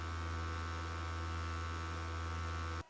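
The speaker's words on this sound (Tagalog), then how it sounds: "Hindi ko usually sinasabi na maingay ang power station kahit na may naririnig akong fan." Portable power station (Promate 240s) with modified sine wave output giving off a steady electrical hum with a fan, loud and unchanging until it cuts off abruptly at the end; no one speaks.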